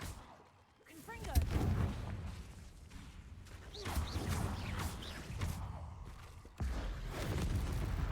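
In a Hogwarts video game, Confringo blasting spells explode as booming, artillery-like impacts with whooshes, against a cave ambience with creature noises and game sound effects.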